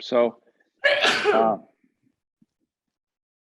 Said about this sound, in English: there was a good sneeze